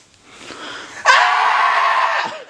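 A man lets out a loud, sustained scream that starts abruptly after a quieter stretch of breathy noise and holds steady for over a second before cutting off.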